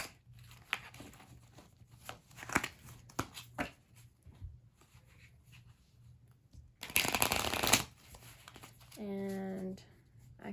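Cards riffled and shuffled in quick bursts, close up, with a loud riffle in the middle and a quiet room around it.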